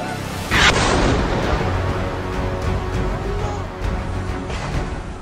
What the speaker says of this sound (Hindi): अचानक एक रॉकेट निकला और सीधा अस्पताल के परिसर में गिरा। बड़ा धमाका हुआ।